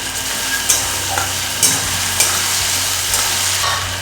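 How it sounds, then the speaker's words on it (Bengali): Tomatoes with turmeric being stirred and mashed in a curry pan for bhetki fish kalia: a loud, even sizzle broken by regular scraping strokes of the spatula, close and alone. "টমেটোগুলো তুলে বেশ খেটে খেটে দিলে তরকারিটা রঙটা ভালো হয়"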